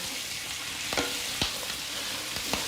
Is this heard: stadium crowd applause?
no